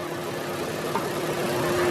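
Steady idle from a 1500 cc, 147 hp turbocharged TSI petrol engine in a Škoda Slavia, an even, close droning hum with slight vibration and no voices over it.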